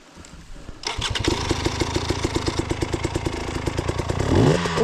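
Motorcycle ridden off-road in Peru, its engine revving loudly with rhythmic throttle pulses and clatter as it rolls toward a steep drop, rising in strain near the end.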